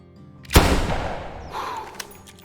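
A single loud rifle shot fired at a puma in theHunter Classic, a sharp crack followed by a long rolling echo that fades out, with a faint later click.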